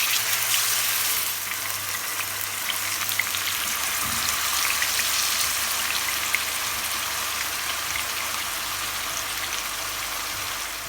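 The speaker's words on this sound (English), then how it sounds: "we're gonna add some oil to our frying pan, and then we're gonna get the frying" Pork chops sizzle in hot oil in a frying pan, a steady dense crackle with fine popping that holds evenly from start to finish, close and with no one talking.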